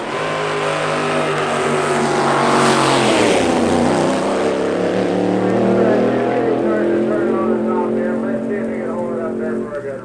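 A 1963 drag racing car roars loudly at a drag strip, its engine note rising in pitch and then sweeping down as it passes, with a steady heavy drone that carries on to the end, and an announcer talks over it.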